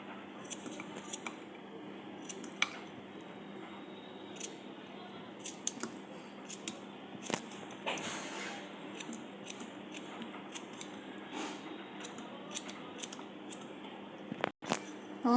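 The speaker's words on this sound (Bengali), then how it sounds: "শসাটা ধুয়ে নিয়ে এইভাবে একটু টুকরো করে কেটে নেব।" Sharp knife clicks and taps sound as a washed cucumber is cut into pieces on a board, scattered irregular strokes, close and fairly quiet against a soft background hiss.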